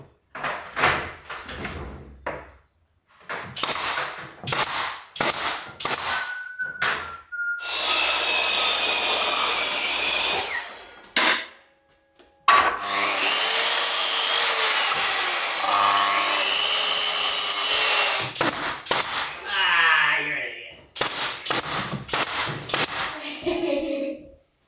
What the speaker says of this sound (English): I needed a table saw to cut the final bits down